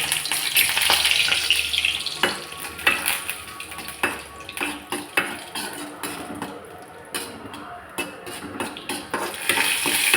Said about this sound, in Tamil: நெய் சுடாயிடுச்சு முந்திரி சேர்த்துக்கலாம்